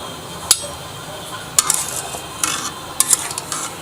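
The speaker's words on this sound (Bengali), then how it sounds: "এই পর্যায়ে আমরা চুলায় তাপ দিয়ে খাঁটি ঘিতে রূপান্তর করব।" Butter is heated and stirred on a stove to make ghee: a few sharp, close scrapes and clinks of a utensil against the pot come at irregular intervals over a faint bubbling hiss.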